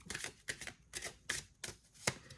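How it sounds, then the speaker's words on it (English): A deck of cards riffled and shuffled several times in quick bursts, close by and fairly soft, with a crisp flutter each pass. "We'll give it a good shuffle"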